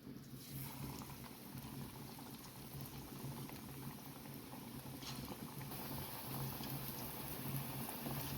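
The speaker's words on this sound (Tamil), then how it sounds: "கடாயில் எண்ணெய் விட்டு கொஞ்சம் நல்லா காஞ்சதுக்கப்புறம் நம்ம வடையை போட்டு எடுத்துக்கலாம்." Drumstick leaf bonda frying in hot oil in a kadai, a continuous close bubbling sizzle that stays fairly even and slowly grows a little louder.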